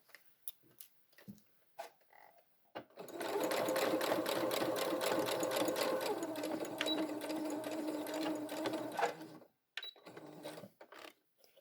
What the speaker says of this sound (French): nous allons les coudre à la machine